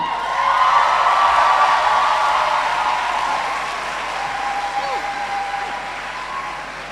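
Applause from an audience at a medical science faculty pledge ceremony, loud and steady across the whole stretch, tapering only slightly toward the end.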